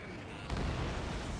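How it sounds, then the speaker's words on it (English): A missile striking its target in the jet combat game Ace Combat 7, a dull muffled boom rising out of steady engine rumble about halfway through and hanging on briefly. "Missile hit."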